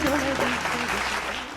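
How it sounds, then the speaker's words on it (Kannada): An audience at the Ganasinchana singing reality show on DD Chandana breaks into sustained applause, a steady wash of many hands clapping while voices carry over it. "ಗಾನಸಿಂಚನಕ್ಕೊಂದು ದೊಡ್ಡ ಚಪ್ಪಾಳೆ ಬರಬೇಕು."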